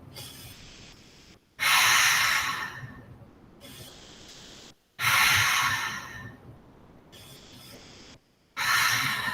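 Slow yoga breathing in a studio class, with several long, loud breaths in and out alternating with quieter pauses, each breath close and airy.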